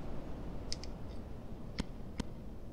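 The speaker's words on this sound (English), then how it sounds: "we're gonna use a metronome" A corrupted PlayStation 2 BIOS produces a few sharp, metronome-like clicks at uneven intervals, isolated ticks over a low background hum.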